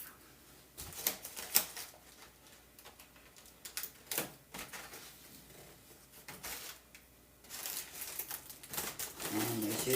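Foil balloons having their tabs snipped off, with crisp crinkling of the foil and short sharp scissor cuts coming in irregular bursts at close range, with quiet gaps between handling sounds.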